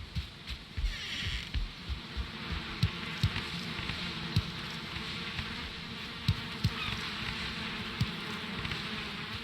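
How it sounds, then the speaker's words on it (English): Honeybees buzzing in the video game Valheim, a steady droning hum that holds for the whole stretch with small pulsing swells, fairly close and alone without talk. "check on my honeybees. They probably have honey now."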